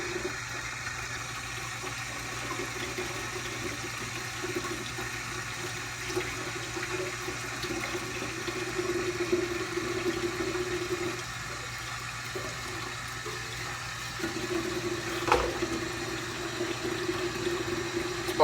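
Shake cup rinsed under a running tap, giving a steady, even hiss of flowing water with one brief knock near the end; no voices.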